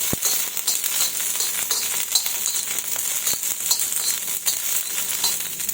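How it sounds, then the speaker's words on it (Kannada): Green chillies fry in a little oil over a low gas flame, a continuous crackling sizzle with occasional sharper pops as they are stirred, close and without talk. "ಸ್ವಲ್ಪ ಎಣ್ಣೆ ಹಾಕಿ ಹುರಿತೇನೆ"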